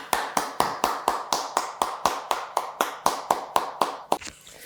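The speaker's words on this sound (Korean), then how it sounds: "우리 하나님께 영광과 감사의 박수를 올려드리겠습니다" Congregation in a church clapping together at the close of a Sunday service, a steady run of about fifteen crisp, evenly spaced claps that ends abruptly.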